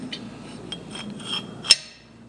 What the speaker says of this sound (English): just swing the arm shut